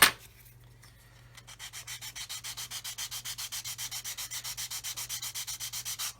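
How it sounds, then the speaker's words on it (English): Sandpaper rubbing on a plastic part of a Hobby Boss 1/35 Land Rover Defender SWB scale model conversion, heard as steady, rhythmic back-and-forth strokes after a short pause at the start. The sound is close and even, and no one speaks. "I'm just going to sand this away here."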